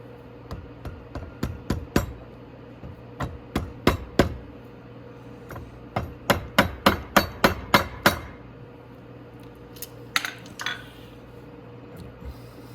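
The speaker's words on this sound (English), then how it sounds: "You can just use a screwdriver and hit them a little tap in." A screwdriver taps parts into the rear swing arm of a Venom 125cc Grizzly ATV, making sharp metallic knocks in quick rhythmic bursts with short pauses between, close up and with no speech.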